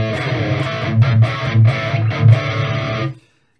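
Electric guitar played through a plugin preset drenched in reverb, a few sustained chords with swelling accents that ring out and stop abruptly, alone and fairly loud.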